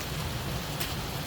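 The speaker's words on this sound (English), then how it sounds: "it looks like it's just probably rain now" Steady rain hisses down during stormy Nebraska weather, a dense, even wash of drops without breaks in a short stretch.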